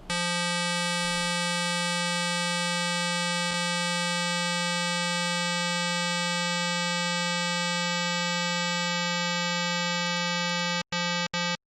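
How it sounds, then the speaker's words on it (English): An additive synthesizer holds a stack of steady sine-wave partials forming a bright harmonic drone, and the upper partials drop away one by one as it is low-pass filtered, ending in abrupt cuts. "I just start turning down all of these sine waves"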